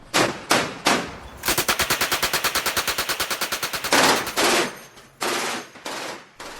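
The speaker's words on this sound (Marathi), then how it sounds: "त्यांच्यावर MMG आणि तोफांचा जबरदस्त हल्ला सुरू झाला" Battle sound effect of a high-altitude mountain fight: a long rapid burst of machine-gun fire in a steady rattle, framed by heavy, booming blasts of artillery before and after.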